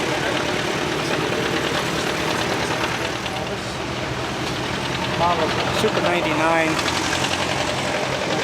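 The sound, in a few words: vintage tractor with 3-cylinder Detroit diesel engine running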